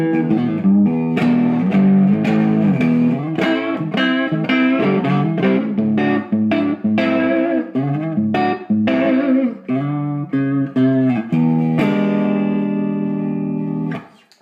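Crunchy overdriven electric guitar through the crunch channel of a Marshall G100R amplifier and 4x12 cabinet, playing chords and riffs, loud and continuous, with a sustained final chord that fades out at the end.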